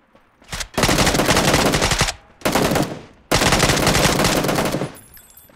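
Loud, close bursts of rapid automatic gunfire in PUBG come in three long sustained strings with short gaps between them, harsh and continuous rather than single shots.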